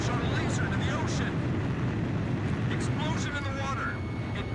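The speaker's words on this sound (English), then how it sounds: "Explosion in the water." Underwater explosion from a laser striking the ocean in the Ace Combat 5 video game, a dense rumbling roar that holds steady and loud throughout, with a voice talking over it.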